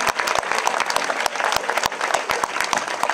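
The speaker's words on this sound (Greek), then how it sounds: "θέλω όμως να φύγει με χειροκρότημα ζεστό, δυνατό" Loud, warm applause from an audience at a municipal political event in Alexandroupolis, with sharp individual claps standing out from a continuous crowd clapping texture.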